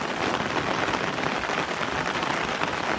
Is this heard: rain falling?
yes